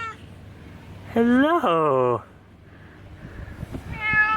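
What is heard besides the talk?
cat meowing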